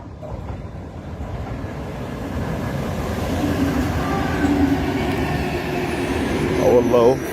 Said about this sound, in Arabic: المترو طبعا اللي جاي داخل علينا دلوقتي